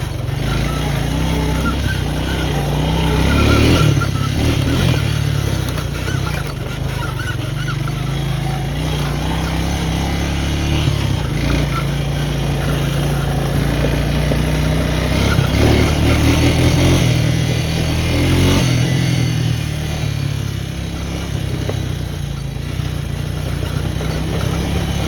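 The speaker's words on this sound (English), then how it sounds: "We'll get on the mini bike." Small mini bike engine runs steadily nearby with a buzzing drone, rising and falling slightly as the throttle shifts, with no talk over it.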